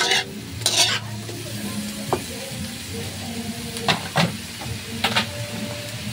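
Chicken Bicol Express is stirred in a sizzling pan, with steady frying hiss and repeated scraping strokes of the utensil against the pan.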